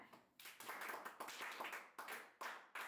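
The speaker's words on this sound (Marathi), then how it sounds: "टाळ्या." A small group claps in bursts, several rounds of applause with brief gaps between them, close and quiet, with no talking.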